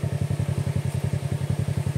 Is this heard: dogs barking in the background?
no